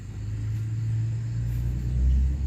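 A car passes close by, a loud, steady low engine rumble that swells slightly near the end, with no voices.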